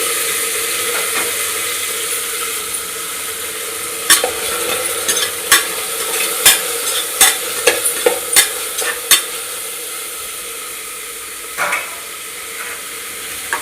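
Carrot and tomato fry with golden onions for methi pulao, a loud steady sizzle broken by a quick run of sharp spatula taps against the pan, then a few softer scrapes.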